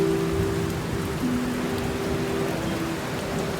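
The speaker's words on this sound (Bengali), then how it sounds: "এই আকস্মিক বৃষ্টিই হল মেঘ বিস্ফোরণ" Sudden heavy cloudburst rain pours down in a dense, continuous hiss of drops striking surfaces, with a faint steady tonal hum beneath it.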